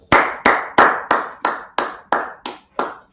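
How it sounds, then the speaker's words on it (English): Eight slow, evenly spaced hand claps ring out close and sharp, each with a short decaying tail, at a street teaching session by a Hebrew Israelite group. No voices are heard. "clap it up"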